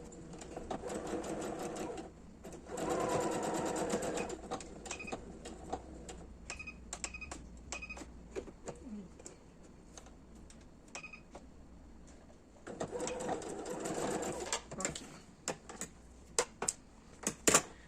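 Sewing machine stitching a zipper pouch in bursts of rapid mechanical chatter, broken by pauses, clicks and brief handling sounds, heard close and fairly quiet.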